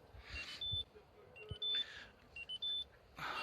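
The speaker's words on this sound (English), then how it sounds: "A nice French warning buzzer" Three short electronic key-in warning beeps from a 2004 Citroen C3 1.1, evenly spaced, at moderate volume over a faint background rumble.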